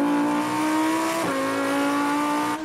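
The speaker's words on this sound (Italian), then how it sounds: "Hanno cambiato l'impianto dello scarico e quindi di conseguenza quest'auto" Lamborghini Huracán Performante V10 howling loudly and steadily through a modified exhaust, close by, with a brief dip in pitch partway through like a gear change before the roar resumes.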